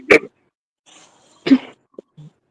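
A man clears his throat in a live studio interview: a rough burst at the start, another harsh burst a second later, then a couple of small throat noises. Each is close and brief, with a quiet pause between.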